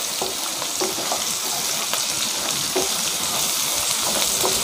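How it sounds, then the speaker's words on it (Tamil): Oil spattering and sizzling loudly in a pan as washed turkey berries fry, a dense continuous crackle up close with small pops throughout. "தெறிக்க ஆரம்பிச்சிருச்சு எண்ணெய்."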